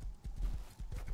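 Horse hooves clip-clop in the survival video game Rust, a few quick muffled thuds in uneven rhythm, close and faint.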